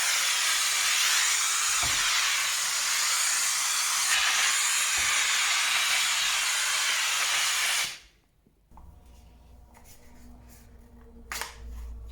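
A Kärcher KST 2 steam cleaner with its hand nozzle blasts a loud, continuous steam hiss on windows for about eight seconds, then cuts off abruptly. Faint handling knocks follow in the quieter remainder.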